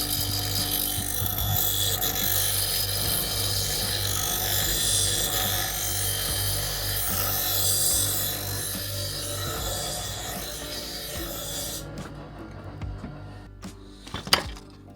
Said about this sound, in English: I have to sand it down definitely